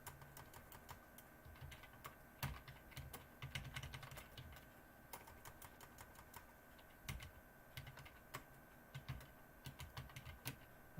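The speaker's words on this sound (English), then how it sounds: "okay, I gotta slow down because I'm typing too fast." Fast typing on a computer keyboard, a dense run of quick crisp key clicks with occasional louder strokes, close and steady for several seconds, no voices.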